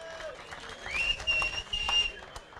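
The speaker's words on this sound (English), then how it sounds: "Let's give them a warm round of applause." Moderate applause from a crowd at a sport fishing weigh-in, steady clapping with some background voices, fairly close.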